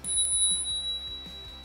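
The bell on a Kugoo Kirin G3 electric scooter rings with a bright metallic ting that lingers as a clear sustained tone, heard close and alone with faint handling thumps.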